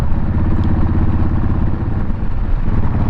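Custom Harley-Davidson Sportster built from its original frame and engine, cruising on a road; a loud, close, continuous rumbling V-twin exhaust with a throbbing pulse and some rattle, no speech.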